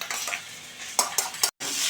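Chilli chicken fries in a pan, a soft background sizzle broken by several sharp clinks of a utensil against the pan and a brief drop to silence near the end.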